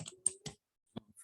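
Short bursts of keystrokes on a computer keyboard, a few crisp close clicks clustered together, then a pause and a couple more taps, quiet and alone.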